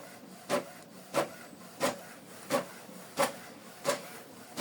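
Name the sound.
Canon Pixma TS4150i printer printing a document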